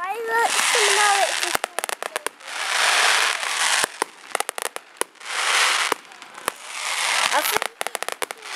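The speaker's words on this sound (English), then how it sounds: "The fireworks coming out." Fireworks bursting at a bonfire night event: repeated sharp bangs and dense crackling showers in quick succession, loud and close, with people talking in the background.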